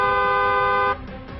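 A car horn blares in one sustained, bright honk for just under a second, then cuts off, leaving faint traffic-like background noise.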